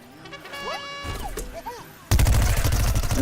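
A pea-gatling opens fire in Plants vs Zombies: Garden Warfare, with a sudden loud burst of rapid shots for the last second after a stretch of quieter game effects and music.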